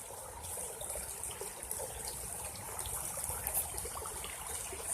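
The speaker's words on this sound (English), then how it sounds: "Flowing water." A stream flowing outdoors past green brush and trees, a steady, fairly quiet rushing wash with faint trickles, continuous and unbroken, with no voices.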